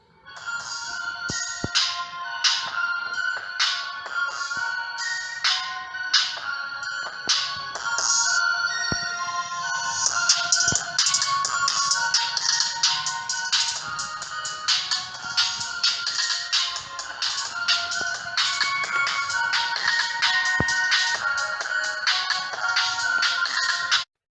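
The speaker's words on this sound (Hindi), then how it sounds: "अब म्यूजिक को प्ले करके देखते हैं।" A bright electronic tune with quick repeated notes plays continuously from a homemade Bluetooth speaker connected to a mobile phone, steady and fairly loud without any talking.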